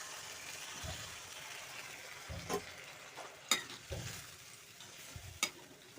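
Manimuni (Centella) juice sizzles and bubbles in a hot pan alongside mashed potato. Occasional sharp scrapes and clinks of a stirring utensil come through, with no talk.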